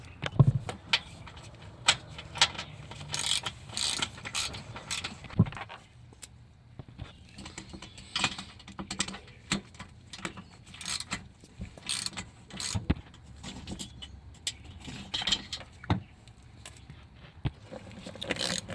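Ratchet loosening 10 mm bolts during a starter replacement on a 2014-2019 Kia Soul 2.0L, heard as bursts of rapid clicking and metallic clatter with short pauses between them, close up and without talk.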